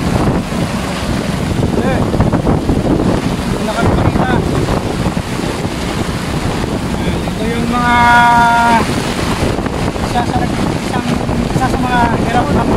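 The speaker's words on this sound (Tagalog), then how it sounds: "Sobrang lakas ng hangin, sobrang lakas ng ulan." Strong wind and heavy rain batter a fishing boat at sea during long-line fishing off Capiz, a constant roaring wash of gusts and rain with someone talking over it throughout.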